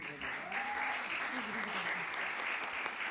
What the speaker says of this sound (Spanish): Que un aplauso para ellos.